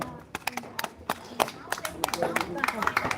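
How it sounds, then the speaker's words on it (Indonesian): An outdoor crowd at an Indonesian Independence Day marching competition claps for contestant number 02, irregular and close, with voices talking over it. "Berikan tepuk tangan untuk nomor urut"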